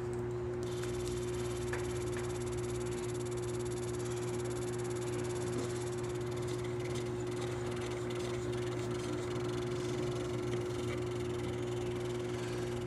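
A Victor electric motor runs steadily on a test, a continuous even hum with a faint buzzing tone and no change in speed.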